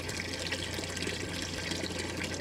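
Water runs steadily through a hybrid PV-thermal solar module, a continuous hissing, rushing flow with a low hum beneath, close and even throughout without speech.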